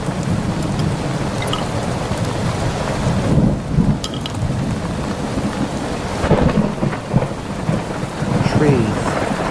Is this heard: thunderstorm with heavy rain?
yes